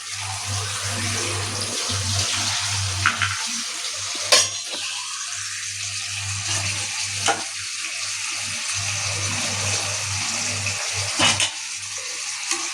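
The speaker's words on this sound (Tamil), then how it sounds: "அரிசி போட்டு நல்லா கிளறி விடுங்க." Rice being stirred in a pot while cooking veg biryani, made with non-basmati rice, giving a steady close scraping and sizzling wash with a low hum underneath and a few sharp knocks, no talk.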